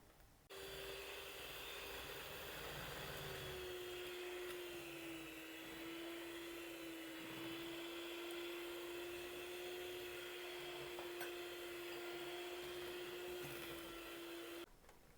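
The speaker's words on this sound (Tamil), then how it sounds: "ரெண்டு முட்டையையும் சேர்த்து இதுவும் எல்லாத்தோடையும் சேர்கிற அளவுக்கு அடித்து விட்டுக்கொள்வோம்" An electric mixer beats two eggs into banana cake batter, holding a steady close whirring hum from start to end.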